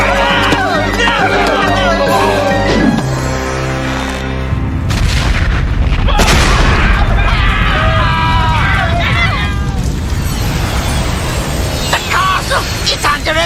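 A deep, booming explosion goes off inside a castle and rolls on under a hubbub of voices, commotion and scattered clattering that follows the blast.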